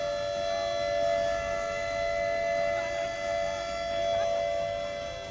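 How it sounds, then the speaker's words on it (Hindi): A steady warning siren wails from a distance in a Kullu Sanj valley during monsoon flooding after a cloudburst, holding a constant tone over rushing background noise with no talk. "खतरे का सायरन बज उठा"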